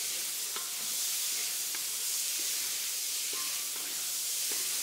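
Pork, onions and garlic stir-frying in a cast iron pan give a steady close sizzle and hiss, with occasional light scrapes and clinks of stirring throughout.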